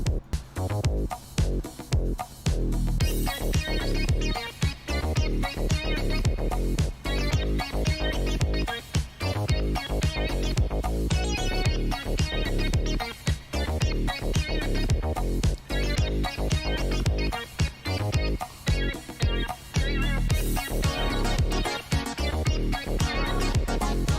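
An analog synthesizer keyboard plays a driving, rhythmic pattern with punchy bass and bright chords, loud and continuous without pause.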